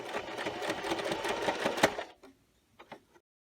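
A sewing machine back-stitches a fabric key fob strap in a fast, even run of needle clatter for about two seconds, then stops, with a few faint clicks and handling taps after.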